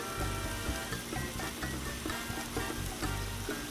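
Philly cheesesteak meat sizzles and crackles loudly on a Blackstone 22-inch griddle, a steady frying hiss with popping bursts throughout and no one talking.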